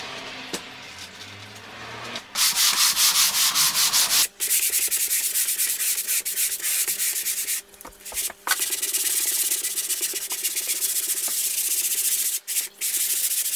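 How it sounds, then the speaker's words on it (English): Walls of a bedroom in a 1902 house under renovation are sanded, producing a loud, continuous close-up rasping scrape that runs steadily with a few brief pauses after a quieter start. "Spent the last 2 hours trying to sand these walls"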